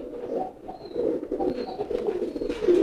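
A male pigeon coos repeatedly while driving (giring), a low rhythmic rolling call in short bursts with faint wingbeats and chirps around it, close to the microphone.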